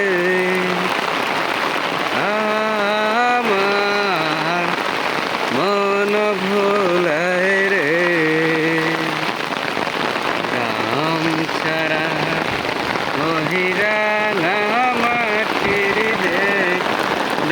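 Heavy monsoon rain falls on a Bengal village in a dense, constant hiss of drops on surfaces, loud and steady throughout, beneath a song with a singing voice.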